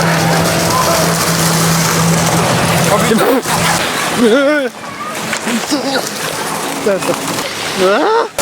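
Water from a jet at the Toverland theme park splashes and sloshes loudly over a camera in a noisy, continuous wash, while people shout and talk excitedly.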